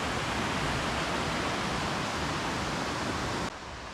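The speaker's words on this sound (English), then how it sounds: "Here's a look at 20-Mile Creek from one of the bridges here." Clear mountain creek water rushing steadily beneath a bridge on 20-Mile Creek in the Smoky Mountains, a dense, even, close-up flow that drops slightly in level near the end.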